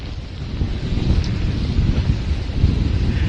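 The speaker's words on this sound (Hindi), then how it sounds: "इस वक्त बहुत तेज हवाएं चल रही हैं मुंबई में।" Strong storm winds in Mumbai roar as a steady low rumble of gusting air buffeting the microphone, continuous and loud throughout with no voices.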